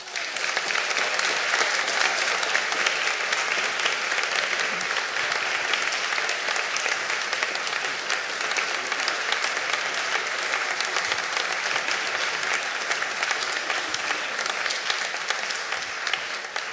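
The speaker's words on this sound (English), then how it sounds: "I want to particularly ask you to give David a big clap" A concert audience applauds steadily and loudly, a sustained wash of clapping hands that holds for the whole stretch without letting up.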